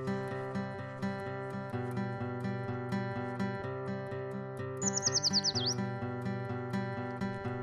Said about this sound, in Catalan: ens parem 15 minuts en un punt ja establert per escoltar el cant dels ocells